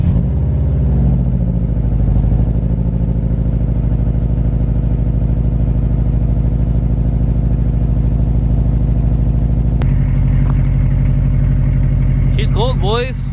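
A Subaru WRX engine cold-starts with a brief crank, then settles into a steady, loud, throbbing idle that runs continuously up close, with a short mechanical change partway through and faint chirps near the end.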